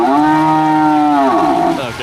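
A single loud, long cow moo, close and clear, with its pitch sliding and fading at the end.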